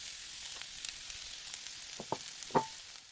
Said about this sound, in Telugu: ఇందులోనే కరివేపాకు, కొత్తిమీర వేసి కాసేపు వేయించాలి.